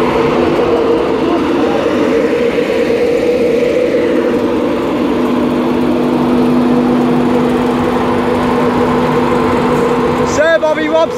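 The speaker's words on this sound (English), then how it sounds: "departing now is 91-109 with Sir Bobby Robson on the front, and that should be going any second now" Class 91 electric locomotive 91-109 departs a station with a steady whining hum and a rising tone, heard from the platform under a broad wash of background noise, with a voice briefly at the end.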